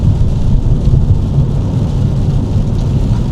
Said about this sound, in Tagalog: ito ang mararanasan nyo, panay ulan